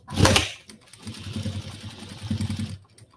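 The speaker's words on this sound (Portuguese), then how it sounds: "Agora eu vou passar uma costurinha de pesponto." A sewing machine runs a topstitch seam with a lengthened stitch, giving a close, steady mechanical whir that starts with a louder burst and then hums evenly for a few seconds before stopping.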